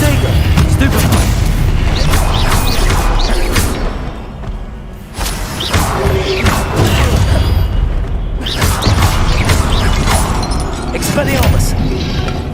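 Spell casting in the Hogwarts Legacy video game, a Stupefy cast amid repeated booming hits and whooshing swipes, loud and busy, with a brief lull in the middle.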